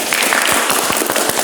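A classroom of automotive students applauds together, a burst of quick, crowded claps that rings out loud and close for a moment.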